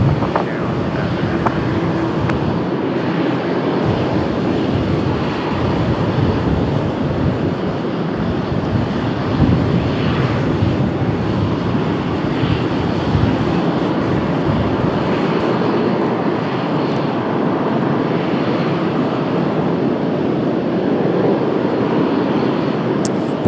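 A United Boeing 737 jet departs Washington Dulles on a cloudy day, giving a steady, loud broadband engine roar that holds throughout with wind noise and no speech.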